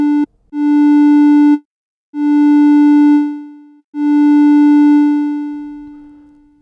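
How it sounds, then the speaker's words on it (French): Three sustained Arturia Modular V synth tones, each swelling in over about one second and then fading slowly away over about two seconds, separated by short silences. "on entend la montée d'attaque durant une seconde et on entend le son retomber vers l'intensité zéro"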